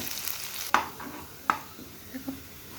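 Potatoes fry in oil in a home kitchen pan with a low, steady sizzle, broken by a couple of sharp spatula scrapes and soft clinks as they are stirred.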